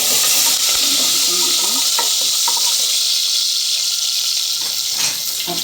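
Small onions and curry leaves sizzle and crackle steadily in hot oil in a pan while tempering for tomato kuzhambu, a close, continuous frying hiss with occasional stirring sounds.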